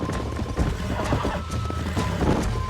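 A bucking bronco in Red Dead Redemption, with a loud close whinny, snorting and busy clip-clop of hooves on hard ground, plus a few thuds and crashes in a lively, continuous burst.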